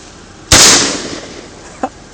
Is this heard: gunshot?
yes